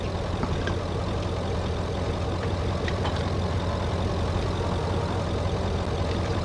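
A tractor engine idles in the video game Farming Simulator 22, giving a steady, continuous low rumble with a faint mechanical clatter that holds evenly throughout, with no talking.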